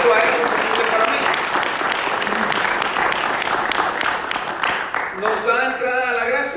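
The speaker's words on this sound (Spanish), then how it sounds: "darle un aplauso fuerte al Señor" A church congregation applauds loudly in a dense, continuous burst, with a voice speaking over the tail end.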